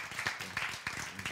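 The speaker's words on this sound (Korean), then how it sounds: "박수." An audience claps briefly during a Bible and science lecture, a short burst of scattered, fairly close hand claps.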